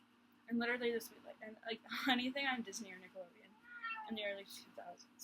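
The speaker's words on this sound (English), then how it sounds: "If you hear meowing, that's my cat." A pet cat meows indoors, its high wavering calls mixed in with and partly masked by someone talking nearby.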